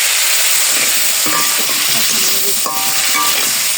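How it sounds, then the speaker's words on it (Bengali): Spices sizzle loudly in a hot pan as water goes in, a steady broad hiss with brief bursts of stirring and faint clinks, close and continuous throughout. "একটু জল দিয়ে দিই"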